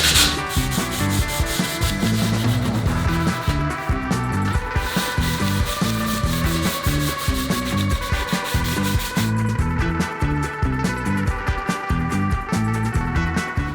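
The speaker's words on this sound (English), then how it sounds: "you can see that didn't take me too long to rub down" Sandpaper worked by hand across a painted furniture top, a continuous rough rasping with quick back-and-forth strokes, close and loud, with no voices.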